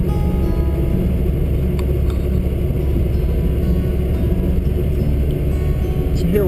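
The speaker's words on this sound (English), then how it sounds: "So here we're driving up the main entry road" A car climbs the main entry road at a ski area, its engine and tire noise forming a steady, loud low rumble throughout, with a few faint clicks and no clear talking.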